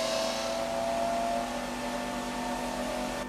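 An electric motor on a ReGenX generator demo rig whines steadily with tonal hum and a faint rhythmic pulse, running continuously and fairly loud with no talk.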